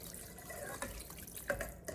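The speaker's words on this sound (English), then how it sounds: "We pour about 4 cups of nice, freshly made homemade chicken stock." Homemade chicken stock, about four cups, is poured into a cooking pot, giving a soft, continuous liquid trickle and splash at close range.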